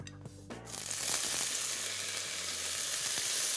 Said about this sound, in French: Les poivrons rouges, je vais les faire tomber dans de l'huile d'olive. L'huile est chaude